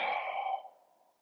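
One forceful, breathy exhale during a breathing warm-up, close and loud at first and then fading to a soft trailing breath.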